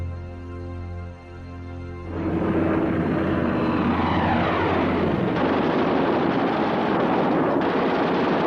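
WWII aircraft engines, Stuka dive bombers escorted by Messerschmitt fighters, start with a low droning hum and then swell into a loud, sustained roar, as if the planes sweep in close overhead.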